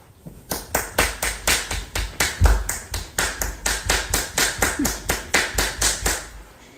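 A single person claps a round of applause, about twenty sharp, evenly spaced claps in a steady rhythm, close and loud, with no talking.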